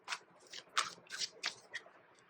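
Tarot cards being shuffled by hand in quick bursts, six or seven crisp riffling snaps spaced irregularly, close and fairly quiet with no talking.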